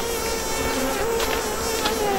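Dense, continuous buzzing of many honeybees close by around an open hive, a steady droning hum with shifting overlapping tones.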